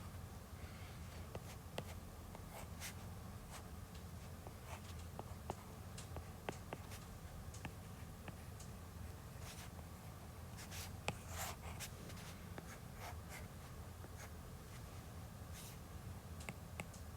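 A pen drawing carbocations on paper, a faint, continuous scratching and scribbling with irregular light taps and strokes, close and quiet over a soft room hiss, with no talking.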